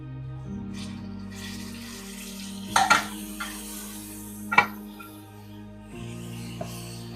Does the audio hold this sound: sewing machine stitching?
no